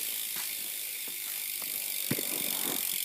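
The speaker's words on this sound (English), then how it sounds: "And you can spin it. Decently loud hub." A 2012 Hoffman Condor bicycle's rear hub freewheel clicks in a rapid buzzing ratchet as the wheel spins, with a few faint knocks over a steady hiss.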